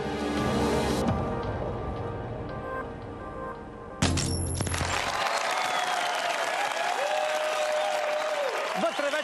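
A studio audience on a Bulgarian Big Brother reality show claps loudly in two bursts, the second swelling after a sharp onset and sustaining as a dense, continuous wash of applause with a voice speaking over it.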